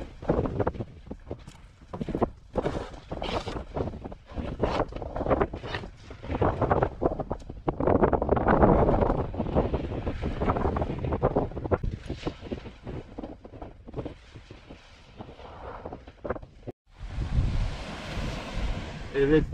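Strong gusts of wind buffet the microphone on a beach while sea bass stew is cooked, roaring loudly near the end, under continuous outdoor talking.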